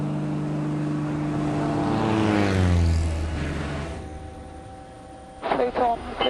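A light aircraft engine drones loudly and climbs in pitch as the throttle is pushed back in for a go-around, then settles. A voice speaks briefly over the engine at the end.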